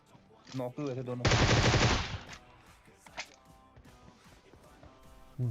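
A rapid burst of automatic gunfire in PUBG Mobile, loud and close, rattles for under a second amid game sounds, followed by a few scattered single shots.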